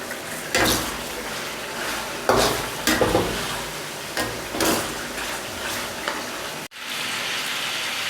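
Chicken white karahi cooking in a pot, sizzling steadily with repeated stirring and scraping knocks against the metal, ending in a sharp click and then a continuing hiss.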